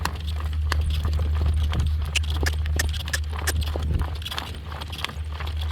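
Horses walk through a pasture with a steady, overlapping clip-clop of hooves at close range over a constant low rumble, with no talk.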